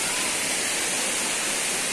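Tirathgarh waterfall roars in a dense, steady rush of falling water. The sound is close, loud and continuous, with no other sounds standing out.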